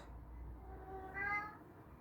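A cat gives a single short meow, faint and close, over a quiet background hum.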